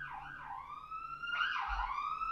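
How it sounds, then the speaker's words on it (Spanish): A police patrol car siren wails past outdoors, rising and falling sweeps sounding loud and fairly close with low traffic rumble underneath. "qué bueno que pasó la patrulla y que ojalá todo esté bien allá a donde vaya"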